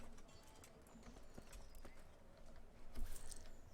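A horse's hooves clip-clop in the medieval video game Kingdom Come: Deliverance, a quiet, steady walking rhythm of soft thuds over faint background ambience.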